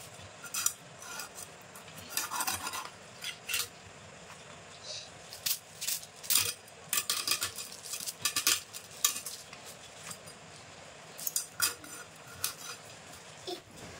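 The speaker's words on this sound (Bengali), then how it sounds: "দেখো এরকম পিস পিস করে কেটে নেবো।" A knife cuts a goldfish into pieces for a Bengali fish and potato curry, giving irregular sharp taps and scrapes on a cutting surface with quiet gaps between them.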